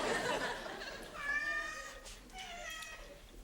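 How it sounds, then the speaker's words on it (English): A cat meows on a roof at night, a few drawn-out, wavering cries one after another, fairly near and alone with no talk over them. "is that Randy bleating cat again"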